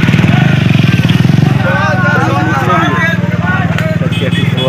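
A 1000cc Hayabusa superbike engine runs steadily and loudly during a ride, its rapid even pulsing continuing throughout, with a voice talking over it for much of the time.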